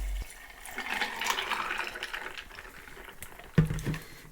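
Caesar cocktail mix pours into a glass with a gurgling, splashing liquid stream that rises and fades, ending with a sharp clink or knock near the end, no talk.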